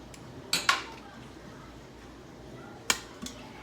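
Pork chops set back into a pot of deglazing liquid for garlic and herb pork chops with vegetables, heard as a few sharp metallic clinks and knocks of utensils against the pot, spread out over a quiet background.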